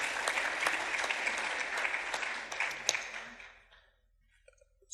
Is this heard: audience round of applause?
yes